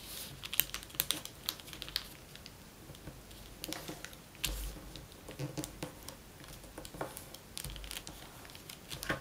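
Paper is folded and creased by hand while making an origami hummingbird. Soft, close crinkles and taps come in irregular bursts, quiet throughout.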